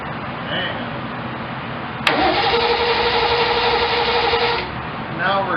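A 1972 Triumph TR6 engine cranking over on a new starter and ring gear in a small shop, a loud, steady churning that starts suddenly and runs for a few seconds before fading.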